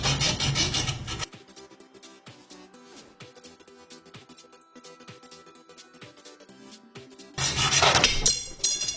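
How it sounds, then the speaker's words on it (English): A fiberglass highway marker cut in half: loud harsh sawing at the start, quieter scraping and clinks in the middle, then another loud burst of rough cutting near the end. "we're gonna cut one of the fiberglass highway markers right in half"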